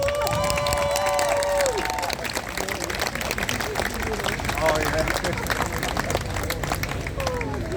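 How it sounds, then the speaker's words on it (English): Crowd at an Auckland pro-Palestine protest clapping outdoors. A dense, continuous patter of many hands rolls on with scattered shouts and chatter, and a few tonal whoops or whistles near the start. "one more big clap for Chloe and Ricardo"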